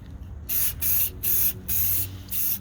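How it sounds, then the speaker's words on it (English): Clear sealer sprayed from an aerosol can onto a fountain riser, heard as five close, loud hissing bursts of about half a second each, split by short pauses. "we strongly recommend also including some sealer spray into the inside area, especially near the door"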